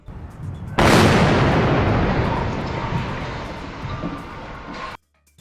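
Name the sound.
controlled demolition explosion and building collapse in Wuppertal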